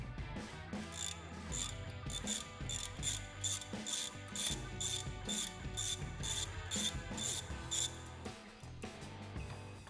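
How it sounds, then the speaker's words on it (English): A ratchet undoes the bolts holding the trigger mount on a Wedgelock C6 quick coupler body. Evenly spaced bright metallic clicks repeat for ten seconds at low volume over a faint mechanical background, and no one speaks. "Undo the bolts holding the trigger mount in place on the coupler body."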